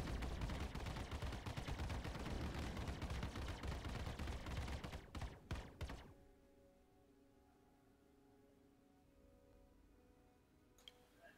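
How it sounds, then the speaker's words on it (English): A Star Citizen Hornet fires all four guns while boosting at full throttle in the video game: a rapid, continuous rattle of shots for about six seconds that cuts off into a quiet, low engine hum, all fairly faint. "We'll be firing all 4 guns while boosting and flying at full throttle."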